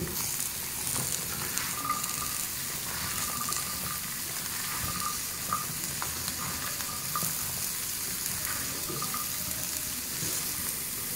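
Cauliflower florets with a pinch of turmeric frying over a medium flame, a steady, dense crackling sizzle throughout with faint intermittent stirring, close up and without talk.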